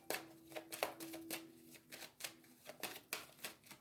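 Oracle cards are shuffled and cut by hand in a quick irregular series of soft riffling flicks and taps, close and quiet, with no one speaking.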